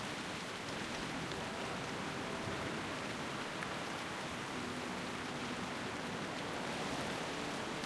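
Steady rain falls across a zone in vanilla World of Warcraft, an even, continuous hiss of drops with no voices and no pauses.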